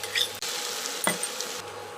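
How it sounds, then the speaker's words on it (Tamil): A spoon scrapes and stirs through thick, sizzling masala with ginger-garlic paste in a pan, with a steady frying hiss and a brief clink partway through. "நல்லா கிளறியாச்சு."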